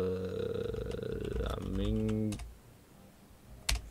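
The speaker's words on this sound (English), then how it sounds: "I have trouble typing" Quick taps of a computer keyboard click in short bursts beneath a louder steady electronic hum, with a sharp click near the end.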